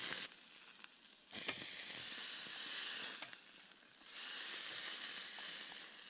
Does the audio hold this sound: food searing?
yes